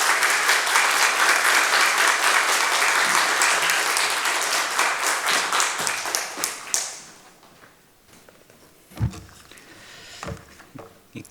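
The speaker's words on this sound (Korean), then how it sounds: "우리 조 목사님 나오실 때 박수로 맞이해 주시기를 바랍니다." Congregation applause in a church as the pastor comes forward, dense steady clapping for about six seconds that thins out and fades, with a few scattered claps afterward.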